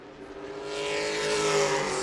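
A stock race car at New Smyrna qualifying, running down to the checkered flag, its engine note rising in loudness and pitch as it closes in, a brief swelling pass-by with no voices.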